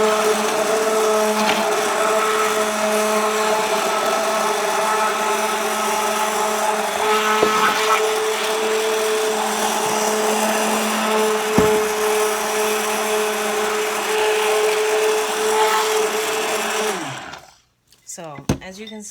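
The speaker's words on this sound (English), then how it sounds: "I add the liquid to the oil slowly as I'm blending. And I blend until I hit emulsion." A blender runs steadily, emulsifying oil and liquid for homemade face cream. The motor hum is loud and continuous for a long stretch, with a few brief knocks, then cuts out near the end. A voice talks over it.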